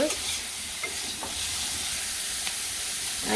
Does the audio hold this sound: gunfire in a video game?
no